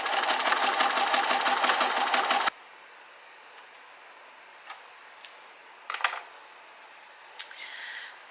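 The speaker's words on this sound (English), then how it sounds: "Okay, so I've stitched this together." A sewing machine stitches a fabric bag in a steady rapid whir for a couple of seconds, then stops, leaving faint clicks and small handling noises in a quiet room.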